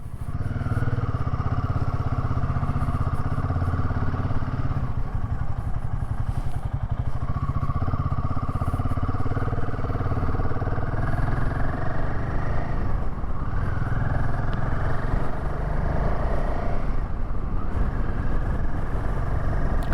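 A road vehicle on a day trip from Bengaluru to Chikkamagaluru drives along with a continuous, loud low engine drone and road rumble, the engine note rising and shifting slightly as it pulls away and travels.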